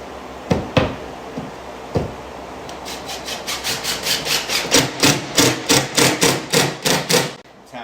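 A screw driven through drywall into a wooden backing piece, preceded by a few sharp knocks, then a steady run of rhythmic grinding pulses that rise in loudness before stopping abruptly.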